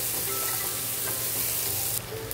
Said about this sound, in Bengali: একটি বড় সাইজের পেঁয়াজ দিয়ে সবগুলো মিশিয়ে পেঁয়াজটাও ব্রাউন করে ভেজে নিতে হবে